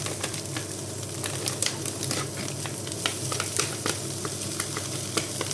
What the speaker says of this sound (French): Et on fait revenir tout ça ensemble également jusqu'à ce que nos petits lardons soient bien cuits